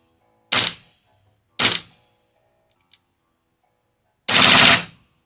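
A Cyma Daniel Defense PDW gas blowback airsoft rifle fires 0.20 gram BBs on Jag race gas: two sharp single shots a second apart, a pause, then a slightly longer burst, crisp and close in a quiet setting.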